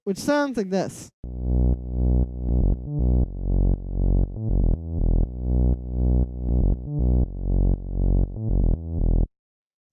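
A house bass made from a filtered-down saw wave: a deep, buzzy synth riff of short repeated notes in a steady bouncing rhythm, loud and dry, following a brief spoken introduction.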